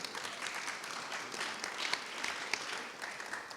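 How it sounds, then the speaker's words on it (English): Audience applause for a panelist introduced at a marketing panel event, a steady wash of many hands clapping with a few sharper claps standing out, moderately distant and even throughout. "please give her a round of applause too"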